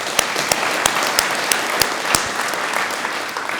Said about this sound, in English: Can I give a big round of applause?